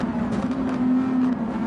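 A race car's engine drones steadily in the Gran Turismo 7 video game, with exhaust crackles and pops scattered over the hum, loud and close, with no talking.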